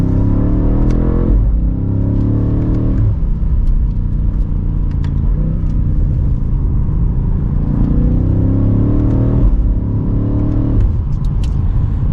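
A brand-new 2023 BMW M8 Competition Gran Coupe pulls hard from second gear, its engine rising in pitch through repeated short-shifted upshifts, loud and rumbling from inside the cabin.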